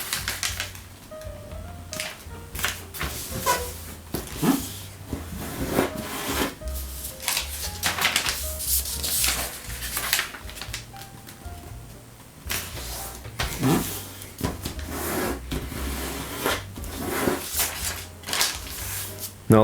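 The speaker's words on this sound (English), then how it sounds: "now we'll fold paper horizontally and vertically in half" Origami paper being folded and creased, crisp rustling, crinkling and sharp creasing snaps repeating in irregular bursts up close, with faint quiet background tones beneath.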